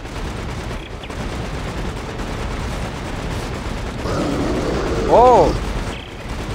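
A mounted machine gun in the video game Dead Space 3 keeps up a dense, sustained rattle of fire, and a voice gives a brief exclamation near the end.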